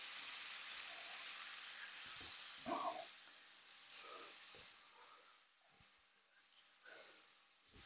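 Beef slices fry in a pan for a beef and broccoli stir fry, producing a quiet, steady sizzle with a few small crackles and pops. No one talks over it.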